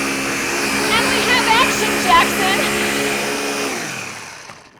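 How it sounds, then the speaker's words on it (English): A blender whirs through a berry smoothie made with almond milk, a steady dense motor roar running for about four seconds before winding down, with a voice speaking over it at the start. "now we're gonna pour it into the blender, our perfect little amount with all of our ingredients. And give it a whirl."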